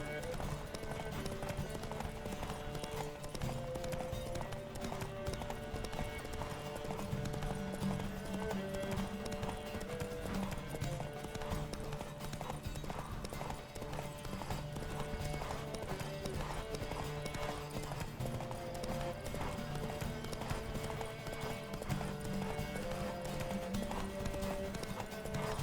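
Horse hooves gallop in The Witcher 3, a steady rapid clip-clop running the whole way under game music and occasional voices.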